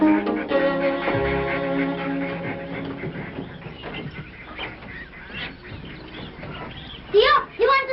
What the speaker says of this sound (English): Tio, you want to see our ducks?